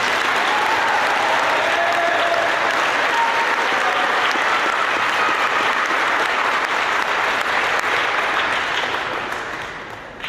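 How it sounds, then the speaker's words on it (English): A crowd at an 8th grade school graduation claps loudly and continuously for a graduating student, a dense, even wash of applause lasting about ten seconds before tapering slightly at the end. "Please give a round of applause for Dylan Cox."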